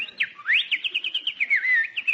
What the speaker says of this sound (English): Oh, isn't that cute? That sparrow must be building a nest.